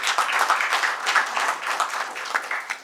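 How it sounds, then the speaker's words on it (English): Seminar audience applause at a hotel inaugural function, a dense, continuous wash of many hands clapping together, fairly close and sustained with slight swells, no speech over it. "Give him a big applause"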